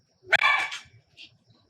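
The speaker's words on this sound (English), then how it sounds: "Sorry, we have the guard dog going off." Guard dog barking at a distance, a single sharp bark followed by a fainter second yip, in an otherwise quiet room.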